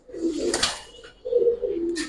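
Pigeons coo in two low, throaty bursts close by, with a brief rustle of wings between them; the birds are silver and silver-khaki Giribaz and coloured pigeons held at a market stall.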